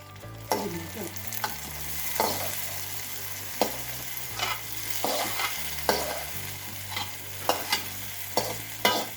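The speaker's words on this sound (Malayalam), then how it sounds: "விட்டு பாக்கியுள்ள நெய்யில் வண்டிக்கணும்" Coconut pieces frying in ghee for payasam, a continuous sizzle broken by repeated scraping stirs of a spoon in the pan at close range, with no talking.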